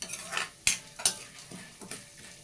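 Curry leaves dry-roasting over a low flame, stirred with a metal spoon: soft scraping and a few sharp clinks against the pan over a faint sizzle, close and quiet with no voices.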